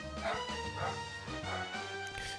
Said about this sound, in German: Vermutlich hört man jetzt den Hund im Hintergrund.